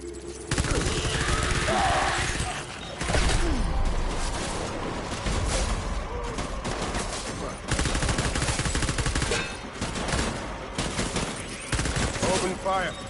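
Rapid gunfire bursts in the video game Death Stranding, loud and close, repeating in volleys with brief gaps while a battle continues.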